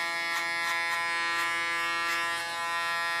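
Electric hair clippers buzz steadily while cutting short hair, with a constant high-pitched hum broken by repeated brief crisp bursts as the blades pass through the hair, close up and without talking.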